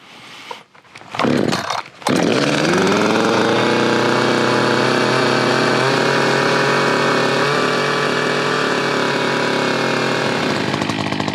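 A chainsaw is pulled and sputters, then catches and roars into a loud, steady idle that runs on alone for several seconds at close range, ahead of cutting lumber.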